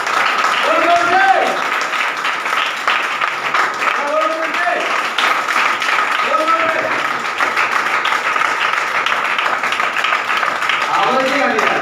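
A crowd keeps up steady, continuous clapping throughout, while a voice speaks over the applause.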